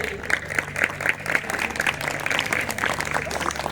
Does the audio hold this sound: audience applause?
yes